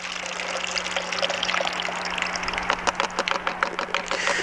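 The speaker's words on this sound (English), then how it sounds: "we're gonna just pour out our developer" Film developer poured out of a Jobo 2400 daylight processing tank: a continuous liquid stream that turns into choppy, gurgling splashes toward the end, with a low electrical hum beneath.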